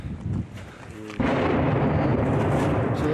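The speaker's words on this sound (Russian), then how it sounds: "Все время стреляют с самого утра" Shelling and gunfire in Debaltseve, heard as a steady, heavy rumble of distant explosions that swells into a dense, continuous roar partway through.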